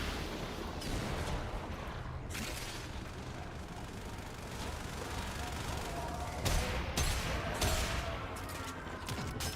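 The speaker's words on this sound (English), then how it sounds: "I like shooting at the ships." Sustained video game gunfire aimed at ships, a dense continuous rattle of shots with a few sharper bursts, steady and loud throughout with little talk.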